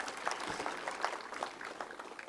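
An audience at a university graduation ceremony in Kenya claps steadily. The applause sounds faint and somewhat distant, with no voices over it.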